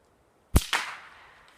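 A suppressed Savage Mark II FV-SR .22 LR rifle firing Winchester ammunition gives a single sharp crack at close range, followed a fraction of a second later by a second impact snap, then a short fading tail.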